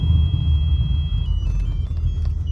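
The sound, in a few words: car engine revving with snappy throttle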